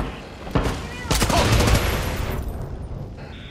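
Gunfire in the video game Far Cry 6, a sharp shot followed by a dense burst of rapid automatic fire that fades into a lingering tail, loud and close.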